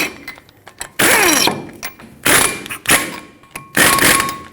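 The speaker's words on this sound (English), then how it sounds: "I'm going to use 2 lug nuts and bottom them out up against the rotor so that it doesn't move around" Lug nuts spin and clatter onto the hub of a Ford F-350 front wheel, seating against the brake rotor in several loud, close metallic bursts of ratcheting and clunks separated by short pauses.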